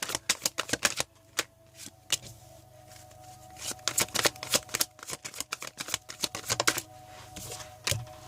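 A tarot card deck being shuffled in quick bursts of crisp riffling and flicking, near and fairly loud, with short pauses between runs and no talking.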